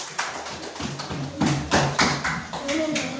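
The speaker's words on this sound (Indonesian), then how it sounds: "Oke, tepuk tangan." A class of students clapping their hands together in a classroom, several loud uneven bursts of claps over about three seconds, with children's voices talking underneath.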